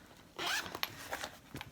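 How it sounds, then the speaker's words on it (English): Zipper pulled along an embroidered in-the-hoop pocket pouch, a quick close rasping zip followed by a few shorter tugs and clicks, quiet and alone with no voices. "And then, again, you have your zipper."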